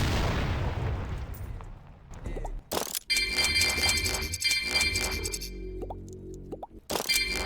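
Loud booming blasts from a game erupt one after another, with bursts, crackles and electronic tones between them, no one talking.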